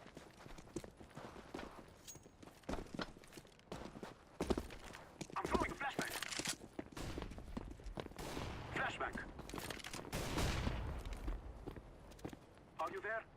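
Counter-Strike match audio with repeated gunfire bursts and shots mixed among running footsteps and game effects, fairly loud and busy throughout, with a voice talking over it.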